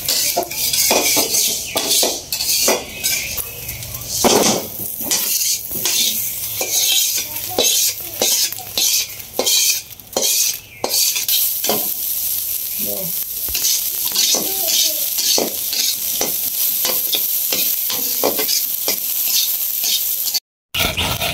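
Rice being stirred and dry-roasted in a pan, with a steady scraping rustle and repeated clinks of a utensil against the metal throughout, a light sizzle underneath, and a brief dropout near the end.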